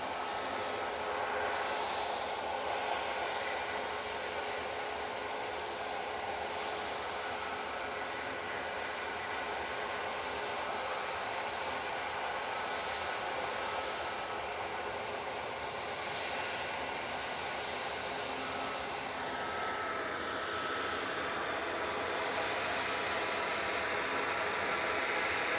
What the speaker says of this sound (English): Jet2's JZHD departing down to position down to London Stansted now